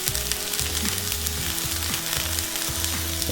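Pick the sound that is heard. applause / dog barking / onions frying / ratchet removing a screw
onions frying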